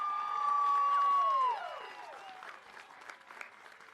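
A graduation ceremony audience at Brockton High School applauds, a dense wash of clapping and cheering that swells loudly, then thins into scattered claps.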